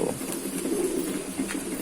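Pigeons coo softly and continuously nearby while feeding, a low murmuring chorus with faint shuffling.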